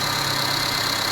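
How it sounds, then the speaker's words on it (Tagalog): A Mercedes-Benz CLA 45 AMG engine idles roughly with a misfire, a steady close mechanical drone with a faint uneven knock running through the short stretch, and no voices. "Yan, palyado nga siya."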